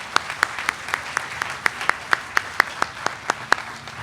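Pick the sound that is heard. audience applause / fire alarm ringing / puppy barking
audience applause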